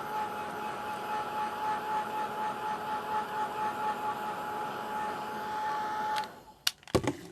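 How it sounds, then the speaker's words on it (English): A handheld craft heat tool blows hot air to dry paint on a drawing, a steady close whirring hum with a faint tone that runs unbroken before clicking off, followed by a few sharp knocks. "I'll use the heat tool again just to dry this quickly so I don't smudge it again with my finger"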